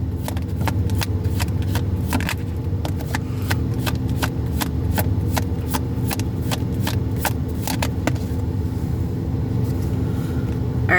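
Tarot cards shuffled by hand in a steady run of crisp riffling snaps, roughly two per second, close and clear over a low background hum, then thinning out near the end.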